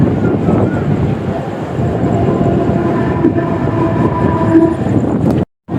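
A passing train near Kalyan railway station in India, with a loud steady rumble of rolling wagons and rail clatter close by that stops abruptly near the end.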